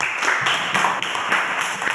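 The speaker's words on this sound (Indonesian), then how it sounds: "Tepuk tangan untuk Mabes" A classroom audience claps for a student, a dense burst of many hands close by that keeps up steadily for a couple of seconds.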